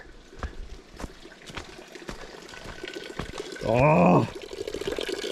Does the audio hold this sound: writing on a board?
no